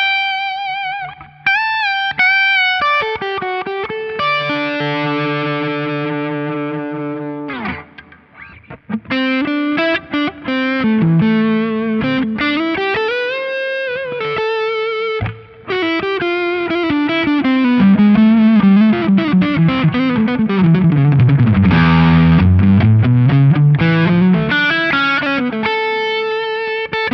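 A PRS Hollow Body II electric guitar through its piezo pickup plays George Benson's "Breezin'", a loud, continuous melodic line of sustained, bending notes with effects over about half a minute.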